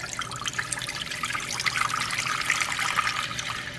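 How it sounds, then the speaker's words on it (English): Filtered water pours steadily into a baking dish, filling it to about an inch, a continuous splashing trickle close by with no talking. "our baking dish, we're going to fill with water up to about 1 inch."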